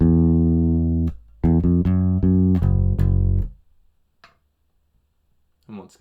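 Bass guitar plays the lower-note sequence of a riff: a few sustained, deep plucked notes, close and loud, then silence with a brief voice at the end.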